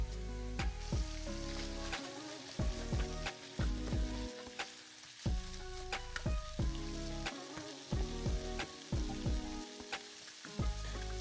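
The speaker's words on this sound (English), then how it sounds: "We're gonna allow it to cook for about 3 minutes." Shrimp fry and sizzle steadily in a hot pan, a loud continuous crackle broken by bursts of popping spatter throughout, with no voices.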